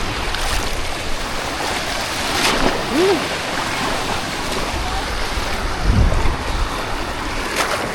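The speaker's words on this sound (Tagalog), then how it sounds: "May alon man pwede mag-surf" Surf washes steadily onto a shallow beach at low tide, with a broad, constant roar of wind and water. A brief low tone and faint voices come through in the background.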